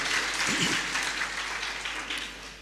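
Sustained clapping from a seated audience fills the space evenly, a continuous patter of many hands; a brief low murmur surfaces near the start but the applause carries on unbroken.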